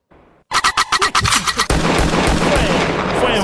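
A gunshot sound effect plays on a podcast as a rapid burst of sharp, loud cracks in quick succession, followed by a sustained booming roar and echoing tail that fades slowly.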